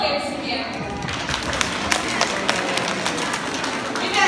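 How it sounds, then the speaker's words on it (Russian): Audience of children and adults clapping together at a New Year's show in a city theatre, a dense, steady burst of applause filling the room, with some background voices. "Давайте похлопаем себе."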